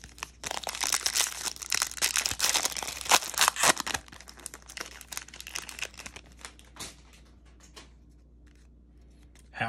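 A 2021 Bowman Draft Asia Edition trading card pack is torn open, with crisp foil crinkling and ripping in dense bursts up close, then softer shuffling of cards as it quiets down.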